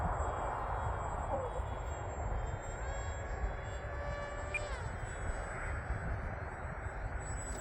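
A HobbyKing Sonic mini RC plane flies outdoors in gusty wind, its steady electric motor whine holding on over heavy wind rumble, with pitch sweeps as it maneuvers, moderately distant throughout.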